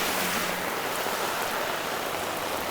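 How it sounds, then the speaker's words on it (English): Heavy, steady rain pours down on a city street at night in Toronto's Little Jamaica, a dense, continuous hiss with a low rumble underneath and no voices. "I have not done a video in heavy rain like this in quite a while."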